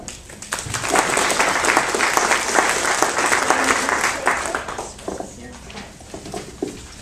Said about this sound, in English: I'm always scared when you get applause before you open your mouth.